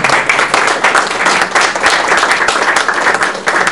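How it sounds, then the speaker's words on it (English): Loud, dense applause from a crowd at a charity auction fills the whole stretch, with many hands clapping steadily and no break. "So a round of applause to yourselves."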